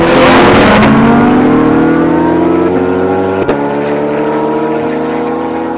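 A 602 hp Lamborghini Huracan and a 510 hp C8 Corvette accelerate hard side by side in a drag race. The loud, close engine roar climbs steadily in pitch, with a brief sharp shift-like break partway through.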